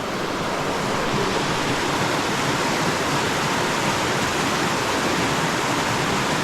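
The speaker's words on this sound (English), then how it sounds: "River crossing." Water flows at a river crossing on a trail section, making a steady, dense, close rushing noise with no pauses or other sounds.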